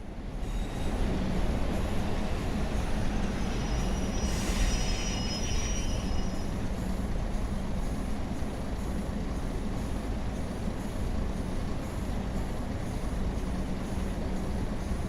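A diesel-electric locomotive in a train simulator game on the West Coast Main Line in snow runs with a steady low rumble and rail noise, a brief squeal of wheels rising early on, continuous with no voices.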